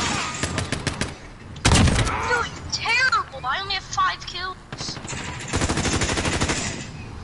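Rapid clacking automatic gunfire from a PlayStation 4 shooter comes in fast bursts at the start and again near the end, with voices talking in between.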